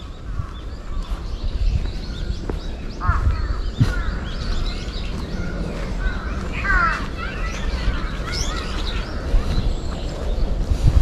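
Crows caw repeatedly around a traditional Japanese house, harsh calls scattered through the scene at moderate distance over a low background rumble, with a few other bird chirps mixed in.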